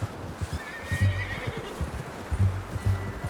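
A horse in Red Dead Redemption 2 whinnies and snorts close by, with short bursts of neighing and hoof clops scattered through.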